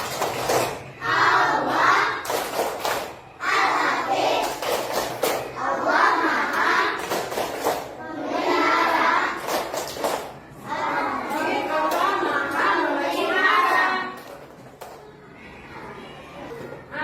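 Children in a classroom chant together in a rhythmic 'tepuk Al-Hafidh' clapping chant, loud group voices in repeated bursts with pauses between phrases, a teacher's voice leading nearby.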